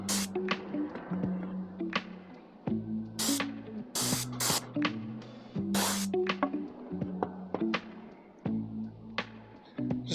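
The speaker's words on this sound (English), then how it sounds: "since I got my sprayer. We're just gonna spray these" Paint sprayer applying wood stain to deck gate boards outdoors, in repeated hissing bursts of varying length separated by brief pauses, close and fairly loud, with a low mechanical hum beneath.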